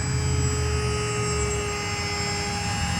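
Small RC airplane with a pusher propeller flying a knife edge, giving a steady, loud motor whine with sustained high tones and no pause throughout.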